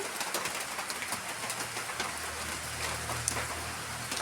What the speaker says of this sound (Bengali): সঙ্গে বৃষ্টি পড়তেই আছে মানে পড়েই চলেছে অবিরাম দেখুন